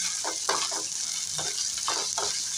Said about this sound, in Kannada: ಟೊಮೊಟೊನ ನೀಟಾಗಿ ಕಲಿಸ್ಬೇಕು